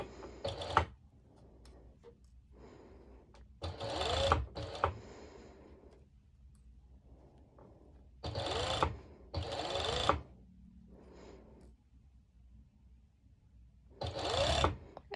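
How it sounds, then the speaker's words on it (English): A serger overlocks knit fabric for a crop top, running in several short bursts of rapid mechanical whirring with quiet pauses between them. "I will actually directly serge it to simplify the time."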